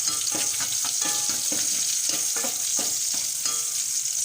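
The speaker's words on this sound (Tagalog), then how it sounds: "lalagay na natin yung ating bawang guys. Igigisa na natin." Garlic sautéing in hot oil in a pan, a steady close sizzle and crackle with faint stirring scrapes recurring throughout, no voices.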